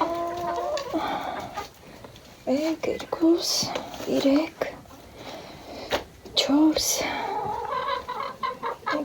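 Hens cluck and squawk in short, rising calls at close range while a laying hen fusses in her nest; someone talks softly between and over the clucking.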